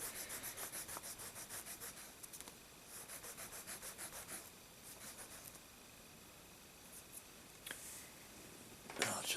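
A rubber eraser scrubs a pencil drawing on paper in quick rhythmic back-and-forth strokes, then pauses, with a few faint scratchy touches near the end; close and quiet.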